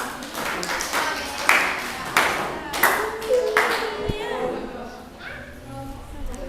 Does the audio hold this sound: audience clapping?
yes